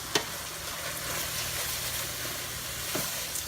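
Ground meat sizzles and crackles steadily in a pan while being stirred for taco lasagna, with a couple of brief utensil scrapes against the pan, heard alone.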